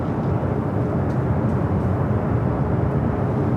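A steady, broad jet rumble comes from a plane moving on the ground at Los Angeles International Airport, continuous and fairly loud from a distance, with no talking over it.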